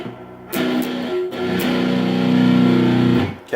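A distorted electric guitar strums open strings in a down, down, up, down pattern, each stroke sustaining loudly up close; no talking.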